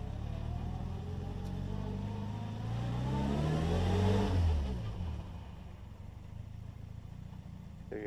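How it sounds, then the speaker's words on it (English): A restored 1959 Austin-Healey Bugeye Sprite accelerates while pulling into a garage, its engine note rising in pitch and loudness to a peak, then easing off into a quieter idle-like hum, heard alone and close. "It accelerates nicely here as I pull into the garage"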